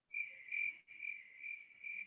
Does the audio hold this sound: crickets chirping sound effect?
yes